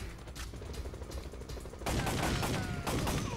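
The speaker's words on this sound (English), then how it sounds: "Shoot the guys with the machine guns." Machine gun fire in the PS1 video game Time Crisis, a steady rattle of shots that grows suddenly louder and denser partway through, loud and continuous with no voices.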